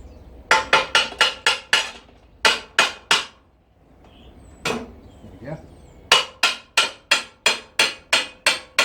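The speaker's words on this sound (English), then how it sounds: "We need a hammer." Sharp metallic hammer strikes in quick rhythmic bursts, fitting an axle pin on a motorcycle trailer, several rapid series of blows separated by short pauses, close and loud.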